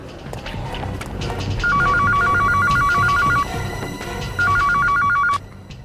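A telephone rings in two loud warbling bursts over a busy indoor background with some footsteps.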